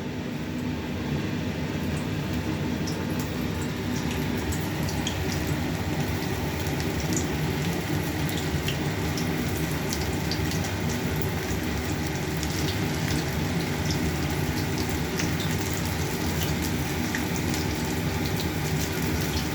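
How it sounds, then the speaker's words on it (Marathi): Soya chunks deep-frying in hot oil, a steady, dense bubbling sizzle that stays even and close throughout with no voices. "आता तुम्ही बघू शकाल हे छान आपल्या तळल्या जात आहे."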